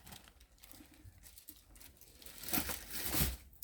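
Crinkling and tearing of wrapping around a Coach bag purchase, a soft rustle that builds into louder ripping and crumpling near the end, heard close with no talking.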